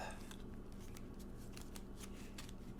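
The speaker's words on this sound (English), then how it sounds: "let's start our shuffle." Tarot cards are shuffled in soft, repeated riffling flicks, quiet and close, with a low steady background hum.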